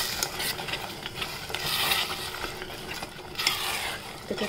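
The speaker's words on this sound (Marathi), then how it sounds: "छोले टाकले ह्याच्यात ते छान परतून घेऊ असं" Chickpeas (chole) sauté in hot oil in a pan, giving a continuous sizzle with repeated scraping and stirring of a utensil close by.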